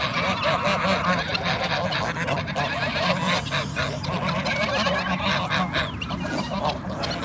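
A flock of geese honks loudly and continuously at close range, many birds calling over one another in a busy, overlapping chorus for the whole stretch.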